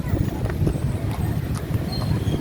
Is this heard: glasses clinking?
no